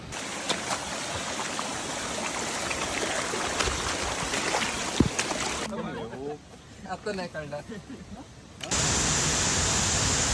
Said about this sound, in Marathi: कसा आहे धबधब्यांचा आवाज